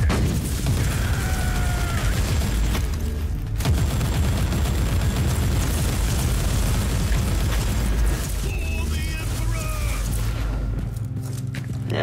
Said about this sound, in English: Take this freaking grenade.